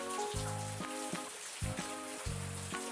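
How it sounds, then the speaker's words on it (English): Autumn rain falls in a steady, close hiss of drops on a surface, with a gentle rhythmic pattering running through it and no voices. "The weather starts to get cool, and sometimes it rains."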